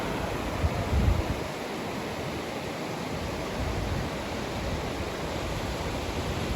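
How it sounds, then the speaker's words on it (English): A steady, soft rush of ocean waves washing in the distance at El Cardón, with a constant hiss and no voices. "but there's waves"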